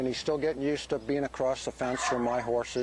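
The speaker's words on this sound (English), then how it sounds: "you can hear my cow dog puppy back there barking" A cow dog puppy barks in the background on a horse property, its yips and barks mixed under steady close-up male speech.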